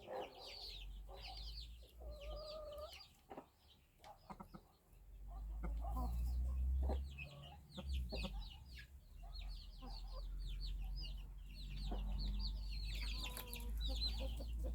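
A hen and a small young rooster cluck and chirp in short, scattered calls over a low rumbling background, fairly faint and close by.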